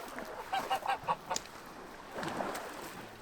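Geese honking in a short burst of several calls near a holiday beach on Zakynthos, loud at first and then fading into background ambience.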